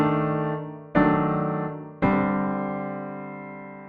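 Three sustained jazz piano chords in quartal voicings are struck one after another, each ringing out and fading before the next, played solo and up close.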